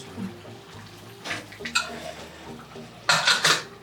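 Metal clanks and scrapes of a pressure cooker lid being fitted and closed over mushroom pulao, a few sharp knocks with a louder cluster of clatters near the end.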